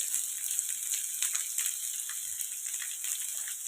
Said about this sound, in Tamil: இதையெல்லாம் வறுத்து எடுத்துக்கலாம். லேசாக வதக்கலாம்.